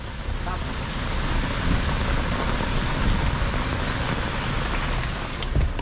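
Heavy rain pours onto a car, a dense, even hiss and drumming that holds steady and loud throughout.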